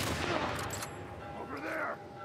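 Gunshots from a weapon in The Last of Us Part 1 during a fight with David's gang, a short volley of sharp cracks with reverberant tails, fairly loud, ending in a brief trailing whine.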